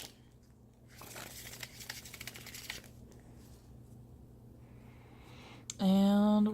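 Tarot cards being shuffled at close range, with soft riffling and crinkling bursts over a quiet room hum, ending in a sudden loud tonal sound.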